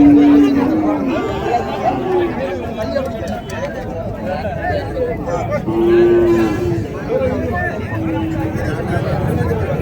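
Calves low a few times amid a busy crowd, with people chatting nearby over the steady murmur of a native cattle market in Madrapalli.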